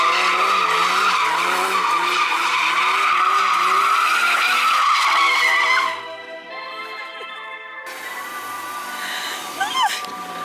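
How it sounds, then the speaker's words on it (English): Car drifting on a skid pad in a rural field, tires squealing loud and sustained with engine roar for about six seconds, then a quieter stretch with a faint distant squeal and brief voices near the end. "he invited us to go drifting with him and his buddies, and now we're here at this friggin' skid pad"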